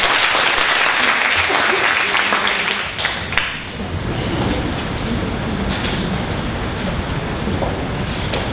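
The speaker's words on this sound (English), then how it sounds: "Give yourselves a big round of applause" Audience applause at a parent poetry and writing workshop, a broad wash of clapping that stays steady and fairly loud for the whole stretch, with a rumbling low undertone and some voices mixed in.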